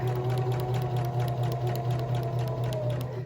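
A sewing machine runs continuously as it back stitches and then stitches forward on a fabric sample, a loud, close, steady mechanical hum with rapid needle rhythm throughout.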